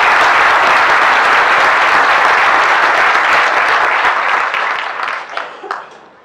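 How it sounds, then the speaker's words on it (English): An audience at a bird photography awards presentation gives a full round of applause, loud and dense at first, then thinning to a few scattered claps as it fades out. "we will give him a round of applause."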